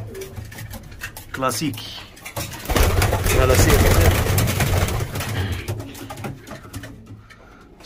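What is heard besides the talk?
pigeons cooing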